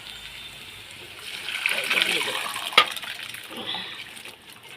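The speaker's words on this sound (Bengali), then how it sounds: "এখন আমি ছোলার ডালগুলো ঢেলে দেবো" Chana dal is poured into a pan in a watery gush that swells midway and tapers off, with a faint voice in the background.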